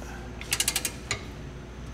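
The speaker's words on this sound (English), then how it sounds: "We're gonna go ahead and crack loose though, all those big bolts as well." A large bolt on a vehicle's front hitch mount being cracked loose with a hand tool, giving a quick run of five or six sharp ratcheting clicks followed by one more click, close up with no talk.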